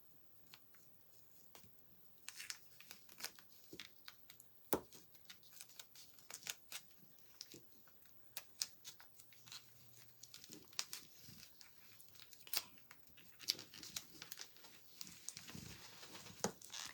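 Scissors trimming paper craft pieces for vintage country crafts, a quiet run of soft snips and crinkling paper handling, scattered irregularly and close by with no talking.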